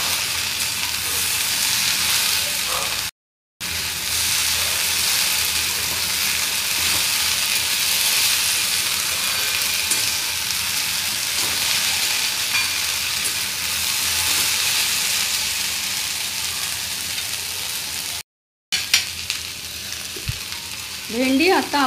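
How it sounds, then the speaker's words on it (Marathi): Okra stir-fries with chopped coriander in a hot pan, a loud, steady sizzle lasting throughout with stirring scrapes, briefly broken by two short silent gaps and a few clatters near the end. "चिरलेली कोथिंबीर घालूया। व्यवस्थित परतून घेऊया।"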